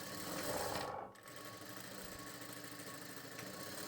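A tailor's sewing machine stitching a hook strip, giving a steady dense motor whirr that stops briefly, then resumes as a continuous buzzing hum with no talk.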